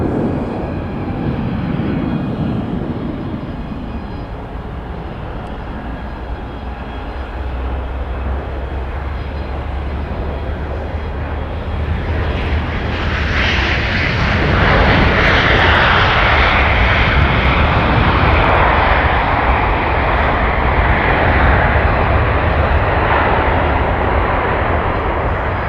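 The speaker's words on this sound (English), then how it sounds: "we've got Southwests coming in from Denver" A Southwest airliner arriving from Denver lands at MSP airport on its second approach after an earlier go-around. Loud, close jet engine roar holds steady, then swells and brightens about halfway through as the plane passes nearby, with no talking.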